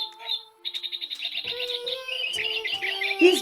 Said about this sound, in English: This bird is so wise.